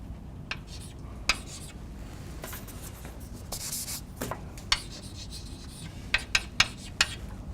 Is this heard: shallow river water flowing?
no